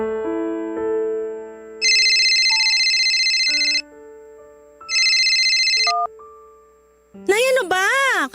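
An incoming call rings on a phone: a melodic electronic tune alternating with two loud, bright bursts of ringing, then a voice begins speaking near the end.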